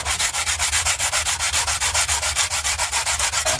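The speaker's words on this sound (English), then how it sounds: "I still need to do the sandpaper." Sandpaper worked by hand over an engine part for a 2009 Dodge Journey rebuild, with steady, rhythmic back-and-forth scratchy strokes repeating loud and close throughout, no voices.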